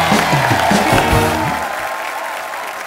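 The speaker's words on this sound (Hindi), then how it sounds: "जोरदार तालियां कंगना के लिए" Studio audience applause greets actress Kangana on a comedy talk show, loud clapping mixed with cheering voices and a few tonal musical stabs, easing down over about three seconds.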